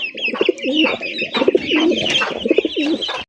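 Fancy racer pigeons coo in a close, continuous run of soft, throaty, repeated phrases lasting a few seconds, with no talk over them.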